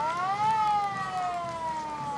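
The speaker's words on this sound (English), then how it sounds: "And the old siren." A wailing mechanical siren on an antique Kentville Volunteer Fire Department fire truck at a parade rises and slowly winds down in pitch, loud and sustained, with faint background noise.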